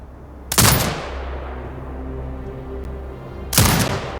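A mounted turret in Sniper Ghost Warrior Contracts 2 fires two loud, close, booming bursts about three seconds apart, each blast leaving a long rumbling echo in a desert setting.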